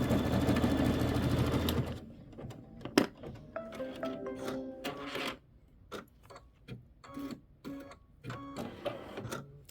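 A sewing machine stitches a quilt block in one continuous run at first, then falls quiet except for scattered clicks, taps and fabric handling.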